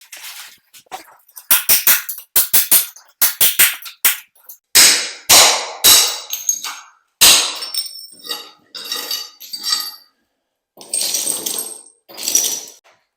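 Hammer blows striking and breaking up floor tiles during tile floor removal, a rapid series of sharp, loud cracks and clattering impacts with brief gaps between bursts, no talking.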